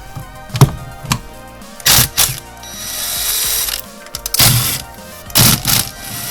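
Ratchet wrench with an 8 mm socket clicking in quick bursts on a Renault Twingo 3, several separate runs of rapid pawl clicks with pauses and metallic handling noise between, close up.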